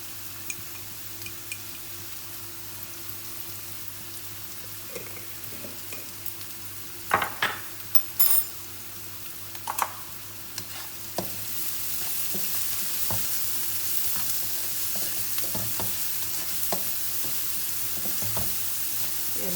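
Onions with chili flakes and salt frying in a pan, a steady low sizzle broken by a few sharp clinks and scrapes of a utensil partway through, then a slightly louder, fuller hiss toward the end; no voices.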